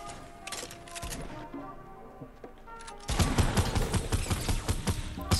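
A new pump shotgun fires in a video game, with scattered sharp cracks early on, then a dense, loud burst of rapid gunfire in the final seconds.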